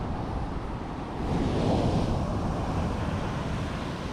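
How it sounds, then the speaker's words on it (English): Ocean waves surge at Nazaré, Portugal, a coast known for giant surf, as a continuous loud roar of breaking water and wind that swells in the middle of the clip, with no voices. "the waves I get here are 80, 100 feet tall for the surfing competitions"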